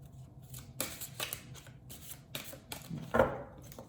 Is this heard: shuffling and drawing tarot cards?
yes